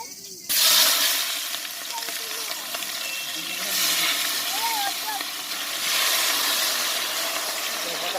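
Chopped onions hit hot oil in a village outdoor cooking pot and burst into a loud, steady hissing sizzle that continues throughout, with faint background voices and chirps.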